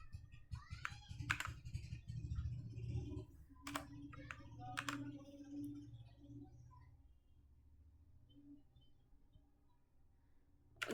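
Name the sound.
typing Python code on a computer keyboard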